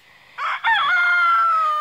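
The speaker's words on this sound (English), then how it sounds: "You hear the roosters?" A rooster crows on a homestead, one long, loud call close by. A short burst opens it, then after a brief break a sustained crow holds steady to the end.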